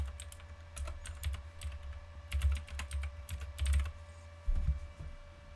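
Close, quiet typing on a computer keyboard, bursts of rapid key clicks separated by short pauses, with no voices.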